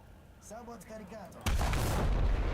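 In the War Thunder game, an aircraft gun opens fire abruptly after a quiet, faintly voiced lead-in, giving a sharp punch followed by a sustained, echoing roar of gunfire.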